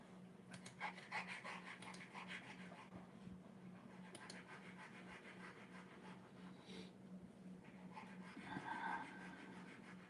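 A dog pants rapidly and steadily a short way off, faint and quick, with scratching and shuffling noises and a low steady hum.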